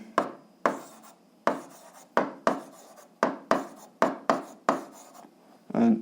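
Pen or pencil strokes mark down an answer on paper in a math exercise, about a dozen short, crisp scratching strokes in uneven rhythm, close and quiet, with no talking.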